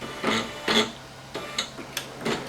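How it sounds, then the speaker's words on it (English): A Singer Legacy SE-300 embroidery machine stitches with Gutermann thread, giving close, rhythmic mechanical bursts of clattering needle strokes separated by short pauses, moderately loud and alone with no talking. "So let's just press play."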